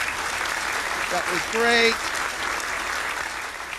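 Audience applause at a comedy game show: steady clapping runs through the whole stretch, swelling briefly midway, while a voice speaks over it.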